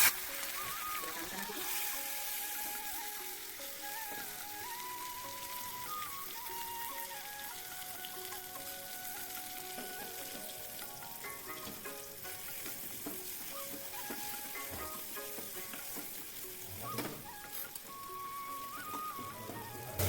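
A tempering of cumin, asafoetida and chili paste sizzles in hot oil in a pan, with a continuous crackling hiss and light popping that stays close and steady for the whole stretch.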